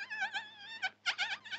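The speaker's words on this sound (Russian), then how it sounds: "Это пчела." Bee in a 1948 Soviet cartoon buzzing in a thin, wavering whine, two short bursts separated by a brief gap, close and clear with no talk.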